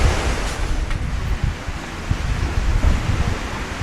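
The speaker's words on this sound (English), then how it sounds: "This is the beach in front of the Biorock Centre." Surf washing onto the beach in front of the Biorock Centre at Pemuteran, Bali, a steady loud roar of breaking waves with wind buffeting the microphone throughout and no voices.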